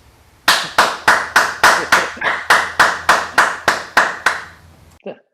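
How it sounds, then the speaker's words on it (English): About fifteen loud, evenly spaced claps from an audience at a breakfast talk ring out one after another with brief echoes, followed by a short voice at the end. "Give him a round of applause, please."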